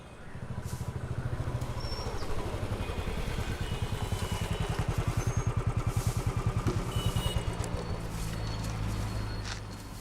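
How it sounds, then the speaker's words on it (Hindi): A motorcycle engine idles and runs with a steady, loud rhythmic chugging pulse, close by and continuous throughout, with a few faint clinks and higher noises on top. "उस बाइक का इंजन सही कर"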